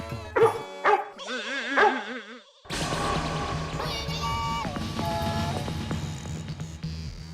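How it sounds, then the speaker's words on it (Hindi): A dog barks and yips a few times early on, then noisy background sound and music-like tones take over with a little talk. "इनको देख के भौंक क्यों रहा है?"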